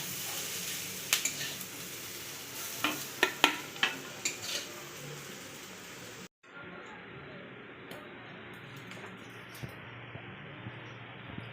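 Clicking stirs and scrapes in a pan over a soft hiss of onion and capsicum frying, a run of sharp taps early on, then a quieter sizzle.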